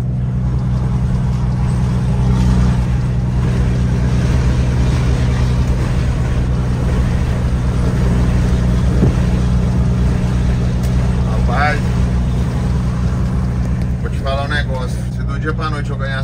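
A loud engine rumbles steadily from a car just ahead at a parade of modified cars in Brazil, a thick low drone filling the scene while people talk nearby.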